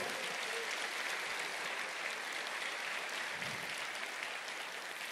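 A church congregation claps in sustained, even applause during a sermon, a dense wash of many hands filling the room without pause.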